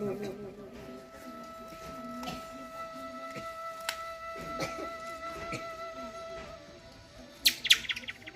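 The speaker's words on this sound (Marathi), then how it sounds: "तो कसा ओरडतो आणि ज्यावेळेस तो ओरडतो तेव्हा पेरणी चालू होते।" Faint bird chirps from a chatak bird (Jacobin cuckoo) sound at a distance over a quiet outdoor background with a steady faint hum, with a few sharper calls near the end.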